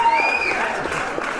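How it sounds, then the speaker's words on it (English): Audience applause at a comedy show, a sustained round of clapping from a crowd with a faint voice or tonal sound riding over the start. "it seems weird that the AI has created itself a very long round of applause"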